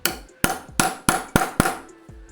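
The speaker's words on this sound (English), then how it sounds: "So what we do is to use a hammer to hammer it." Hammer striking a nail in a wall to test whether it still holds firm: six sharp, loud metallic knocks in a steady rhythm, close by, with no talking.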